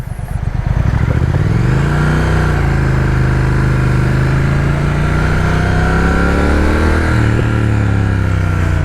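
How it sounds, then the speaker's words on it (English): A motorcycle engine revs loudly and steadily close by, its pitch rising and falling, with small exhaust overrun crackles popping as it settles. "Good little overrun on the exhaust,"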